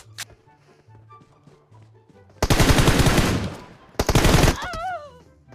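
Loud machine gun bursts in PUBG Mobile: one long rapid stream of shots, a short pause, then a second, briefer burst, over quieter game sounds.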